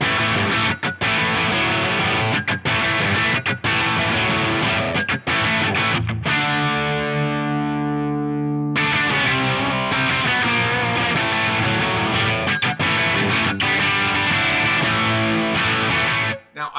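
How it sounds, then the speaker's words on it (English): Distorted electric guitar with PAF-style pickups played through an amp and cab with lush plate reverb, chords ringing out and sustaining, one held chord decaying mid-phrase before playing resumes. "Let's have a listen to the core amp, cab, and reverb tone."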